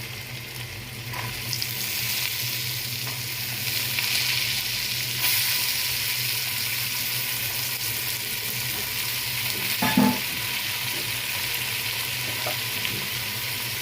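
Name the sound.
stir-frying vegetables for fried rice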